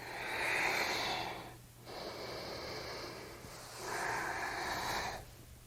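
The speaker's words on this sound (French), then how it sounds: "inspire, expire" During prenatal yoga, slow deep breaths are drawn in and pushed out close to the microphone, three long airy inhale and exhale swells separated by brief pauses, with no talking.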